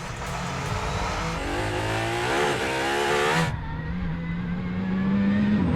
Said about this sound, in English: 30 miles an hour up to the line, then floor it.